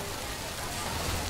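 Heavy rain pours steadily during preparations for a Balinese royal wedding, a dense, unbroken wash of noise without a break.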